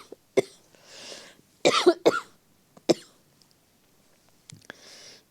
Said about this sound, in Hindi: खांसी हो रही है अभी, पता नहीं क्यों।